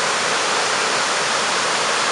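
Albion Falls pours into a gorge with a dense, steady roar of rushing water, loud and unbroken throughout, with no voices.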